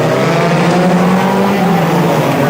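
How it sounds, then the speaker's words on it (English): A big Mercedes banger race car at Bovingdon in 2008 holds a loud, steady engine roar throughout, a continuous drone with no breaks. "the big Mercedes opens up its powerful engine to find the safety of the centre green"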